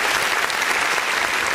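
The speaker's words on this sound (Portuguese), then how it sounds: "E as palmas engrandecem o nome de Jesus." Applause fills a church service as the congregation claps steadily and evenly for the whole moment, a dense, continuous wash of many hands with no voices above it.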